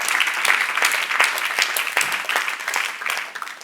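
A church youth group audience claps together in steady applause throughout a faith Q&A session, loud, dense and close, with no speech.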